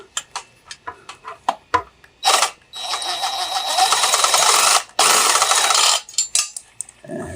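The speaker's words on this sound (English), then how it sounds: "So all we have to do is loosen the header bolts and remove them, which is what I'm about to do now" Metallic clicks of a ratchet or wrench sound as motorcycle exhaust header bolts are loosened and removed, followed by bursts of a louder whirring tool, close by and without speech.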